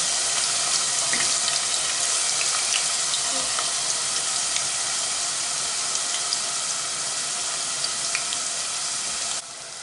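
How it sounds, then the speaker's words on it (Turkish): Potato slices, cut with a slicer, fry in hot oil with a steady, even sizzle and small scattered pops that continue unbroken and close by, with no talking. "Ve kızartmaya başladım arkadaşlar."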